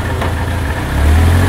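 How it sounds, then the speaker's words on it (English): A BMW Z3 idles up close with a loud, low rumble, and its exhaust rattles because of a suspected faulty resonator. The idle swells a little toward the end, and no one talks. "I thought that rattle was the Resonator, because between it and the muffler, it was the only parts of the exhaust that I haven't replaced"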